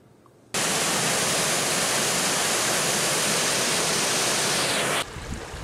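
Canal water rushes through the Sakinetipalli locks in Konaseema on its way back into the Godavari river, a loud, dense, unbroken roar that starts abruptly and cuts off near the end.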